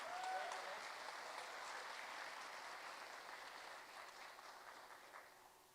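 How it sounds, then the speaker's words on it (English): Sustained audience applause fills a municipal awards ceremony for the Mayor's Education Awards, a dense steady clapping that holds strongly then tapers slightly toward the end, with no voices over it. "one more big round of applause"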